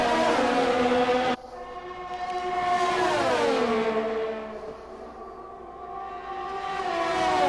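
Formula 1 car engine in the F1 2020 racing game at Spielberg, a loud, sustained high-pitched whine with revs rising and falling through gear changes, a second car's engine tone sweeping past, no talking.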